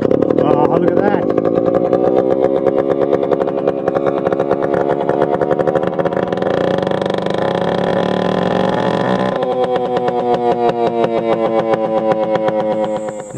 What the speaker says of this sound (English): Now the outboard was running nicely